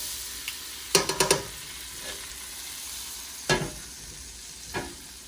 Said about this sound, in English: Then I'm gonna start adding in my cutlets and wait for the rest of the butter to melt.